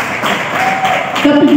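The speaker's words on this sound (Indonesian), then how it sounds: "boleh tepuk tangan" Audience applause at a literacy awards talk show, steady clapping with crowd noise building toward the end as a voice briefly rises over it.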